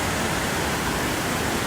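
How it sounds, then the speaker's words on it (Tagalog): Steady, dense rush of falling water from a waterfall in Davao, a continuous broadband roar filling the whole moment with no voices. "There are more waterfalls."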